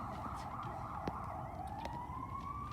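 A wailing ambulance siren sweeps up and down steadily in the distance over a low traffic rumble, continuous and moderately faint.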